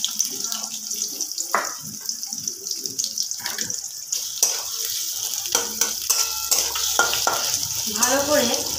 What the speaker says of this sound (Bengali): ভালো করে পেঁয়াজটাকে একটু ভাজা ভাজা করে নিতে হবে।